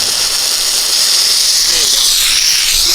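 A loud, continuous sizzling hiss, like water hitting a hot pan, steady and close throughout with no pauses.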